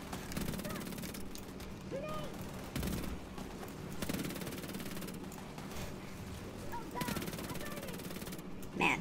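Rapid bursts of gunfire in the video game The Division 2 rattle continuously, with repeated volleys and booms layered over one another at loud, sustained intensity.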